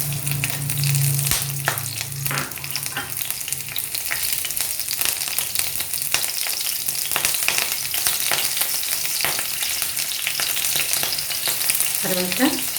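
Green chillies frying in oil in a kadai over a medium flame, a steady loud sizzle with stirring scrapes and a few sharp crackles running throughout.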